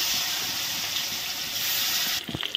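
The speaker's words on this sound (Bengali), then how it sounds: "আমি প্রথমে মাছের মধ্যে তেলের মধ্যে একটু হলুদ গুঁড়ো দিয়ে দিচ্ছি, কারণ মাছটা ফুটবে না। দেখো হলুদ দিয়ে মাছটা দিয়ে দিলাম।" Rohu fish frying in hot oil with turmeric powder, a steady loud hiss of sizzling that suddenly drops away near the end into a few softer spits and bubbles.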